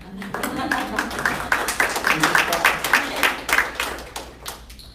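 Scattered clapping from a small audience at a panel discussion, a quick patter of claps that swells and then fades out.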